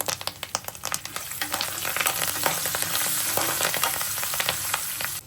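Curry leaves and green chillies hitting hot oil, opening with sharp spattering pops that swell into a dense, loud, continuous sizzle close by, no speech.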